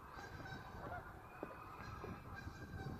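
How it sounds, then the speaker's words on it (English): Geese honk now and then at a distance over a quiet outdoor background, with soft bird calls, including ducks, scattered through. "hear the ducks and the geese and everything going on around you"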